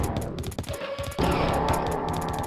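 Rapid gunfire rattles nearby in the video game Quake II RTX, a fast string of shots. It breaks off for a moment, then returns louder and steadier.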